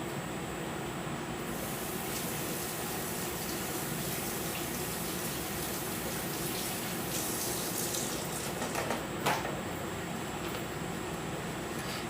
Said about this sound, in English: Let me wash my hands and let you guys see.